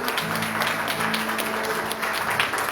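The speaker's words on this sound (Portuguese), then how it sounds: "Aqueles que podem, aplaudem no nome de Jesus" A church congregation applauding together during a worship service, a steady wash of many hands clapping at moderate volume with no speech over it.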